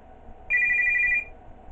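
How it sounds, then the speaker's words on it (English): A phone rings in the horror video game Five Nights at Kyle's, one loud electronic ring tone lasting under a second, standing alone over a faint low background hum. "Oh yeah, phone call."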